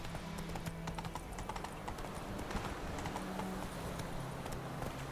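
Horse hooves gallop in The Witcher, a quick, even clip-clop close by over a steady low rumble of ground and ambience.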